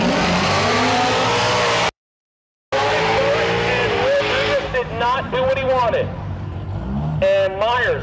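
A drag racing street car at the Street Car Shootout in Bradenton, Florida: a loud engine roar fills the opening seconds, then a commentator talks over fainter engine and track noise.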